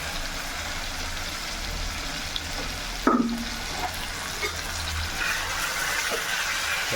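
Tomato masala for Chettinad chicken gravy is stirred in a pan, a steady moderate sizzle with a sharp scrape of the spoon partway and softer stirring after.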